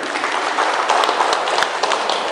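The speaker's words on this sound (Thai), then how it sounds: "ปรบมือให้กับคุณทุกคนครับ" Audience applause, a steady wash of many hands clapping at moderate loudness, with a few sharper claps standing out near the middle.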